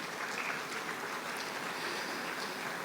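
Faint, distant applause from the audience at a monthly university assembly, a soft steady hiss of many clapping hands that runs unbroken for about three seconds.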